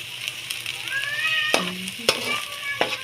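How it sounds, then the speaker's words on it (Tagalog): Ginger, garlic and onion sizzle in hot oil in a pan, a steady frying hiss broken by several sharp spatula scrapes and clanks against the metal. "Ipalisa na tayo ng luya, bawang, sibuyas."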